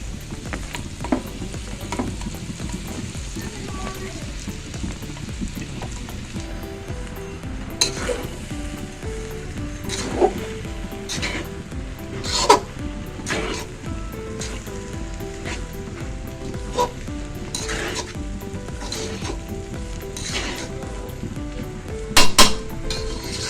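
Rice stir-fried in a pan for dragon fried rice, a steady close sizzle under repeated scraping and clinking of a metal spatula against the pan, with sharper clanks at irregular intervals.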